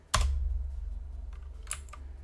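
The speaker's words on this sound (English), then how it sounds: "we're going to type in run" Keys clack on a computer keyboard while typing a short command, a sharp initial press followed by a few lighter taps and a final cluster, close and distinct.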